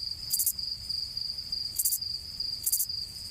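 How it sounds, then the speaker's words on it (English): A Texas field cricket chirps in three short bursts spaced about a second apart, close and clear over a faint steady hum. "Here's a recording of a chirp sequence from a Texas field cricket"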